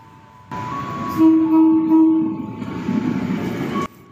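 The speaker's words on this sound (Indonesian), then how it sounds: "Terima kasih Bapak Masinis yang sudah memberikan menyapa dengan klakson manisnya" An electric KRL commuter train rumbles past close by entering Tambun station in the rain, its horn sounding in several short, loud blasts over the rolling noise.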